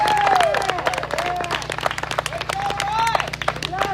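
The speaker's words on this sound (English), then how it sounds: "Give him a great big round of applause." A crowd claps and applauds continuously at close range, with a voice speaking and calling out over the dense, rattling clapping.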